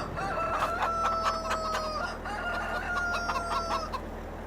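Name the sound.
rooster crowing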